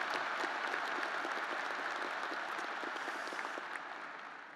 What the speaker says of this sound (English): that hard work and dedication deserves another round of applause